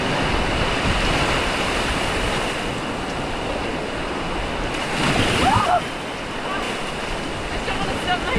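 Waves break steadily along a remote South Manitou Island beach bar thick with zebra mussel shells, a continuous wash of surf with wind noise, swelling briefly louder midway.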